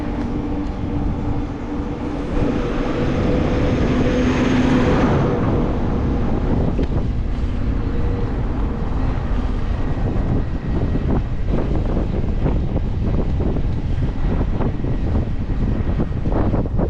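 Wind roars loudly and steadily across the microphone on a bike ride along a Crimean mountain route near Yalta, a constant broadband rush with gusty swells and no speech.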